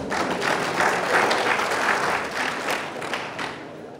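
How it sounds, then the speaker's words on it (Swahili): Graduates at a vocational college graduation ceremony clap for themselves, a dense, sustained round of applause from a crowd filling the room for several seconds, with no speech over it. "ninaomba pia mjipigie makofi."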